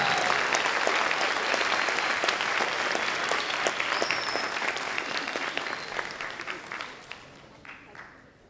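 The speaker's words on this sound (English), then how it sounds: "a round of applause for each of the scholars" Warm applause from a school audience at a middle school academic awards ceremony, steady dense clapping that gradually thins into scattered claps and fades out, with faint voices underneath.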